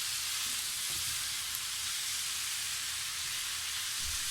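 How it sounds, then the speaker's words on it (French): Lasagne sauce sizzles and bubbles in a pot while being stirred, a steady close hiss with soft scraping, no voices. "Voilà, on remue."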